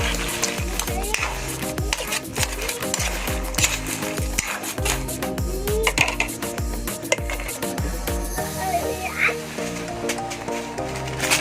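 Crab fries in a pan with a steady low sizzle, while metal utensils repeatedly clank and scrape against it; a person talks over the cooking.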